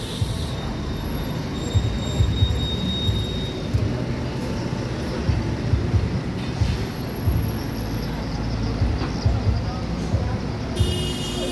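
An NPM SR3 bodied bus passes by at a bus terminal in Sumatra: a loud, continuous engine roar and rumble with rattling and squeal over busy background noise, close to the microphone.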